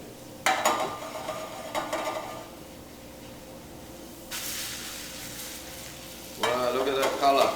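Potato rosti sizzling steadily in a hot frying pan after being flipped, with a soft hiss throughout and a few brief scraping, stirring sounds from a utensil.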